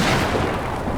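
A thunder crack rolls out as a loud, broad burst of rumbling noise during a heavy downpour, filling the whole moment before easing slightly.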